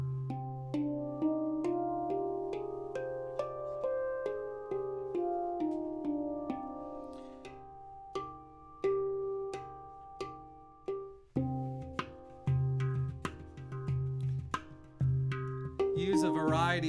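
A pitched hand drum is tapped with the fingers rather than thumbs, bright ringing notes decaying one after another in a steady, melodic pattern.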